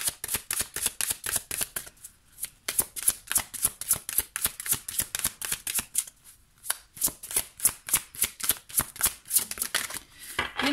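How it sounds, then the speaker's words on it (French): Oracle cards shuffled by hand for a card reading, a long run of quick crisp riffling flutters, close and clear, repeating in rhythmic bursts with brief pauses between. "on va faire un petit tirage conseil avec cet oracle"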